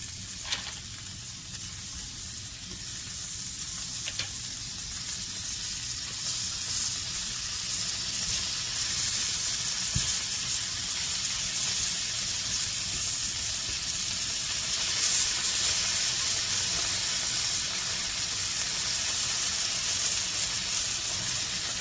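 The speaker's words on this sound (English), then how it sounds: "I'm going to add just a little bit more butter just to coat the pan for when I add the eggs in." Butter sizzles steadily in a hot pan before scrambled eggs go in, a continuous close hiss and crackle lasting the whole stretch with no talk.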